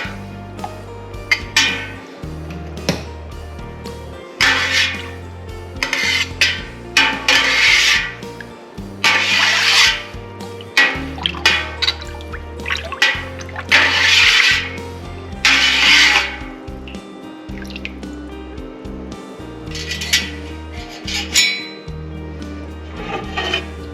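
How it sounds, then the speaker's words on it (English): A spoon scrapes and rubs against a pot as milk and cheese culture are stirred for homemade Gouda, a repeated top-to-bottom swish with metallic clinks under a low background tone. "Use a top to bottom motion when you're stirring to ensure that the culture is thoroughly mixed in with all of your milk."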